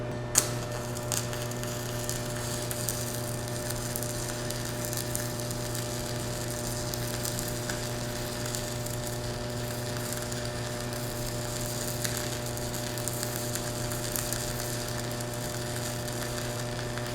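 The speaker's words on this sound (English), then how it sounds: "definitely capable of welding metal that's 1/8 inch thick" A Chanharm 120A single-voltage 110V DC stick welder runs a steady bead on 1/8 inch thick metal, giving a continuous crackling sizzle over a constant electrical hum, close and alone with no talking.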